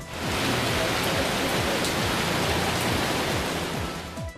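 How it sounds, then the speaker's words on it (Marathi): Light rain falls steadily during an evening shower near Solapur, a dense, even hiss of drops that stays close and fairly loud throughout, with no voices. "सोसाट्याचा वारा आणि ढगांचा गडगडाट सुरू असतानाच रिमझिम पावसाच्या सरी कोसळल्या."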